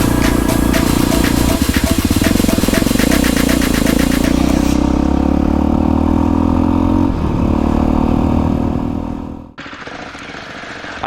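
A loud Voge 300 Rally motorcycle engine runs steadily at idle with a rough, throbbing rumble, then cuts off abruptly near the end, leaving quieter noise.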